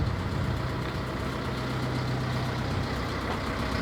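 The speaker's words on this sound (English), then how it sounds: "Yes, engine is running." Diesel-type engine aboard a historic sailing ship at a maritime museum idles steadily, a continuous low mechanical rumble at moderate distance with no voices.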